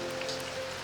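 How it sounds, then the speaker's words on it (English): Gentle rain dripping from gutters, a soft continuous patter of drops close by with a faint steady tone running underneath. "Rain dripped gently from the gutters."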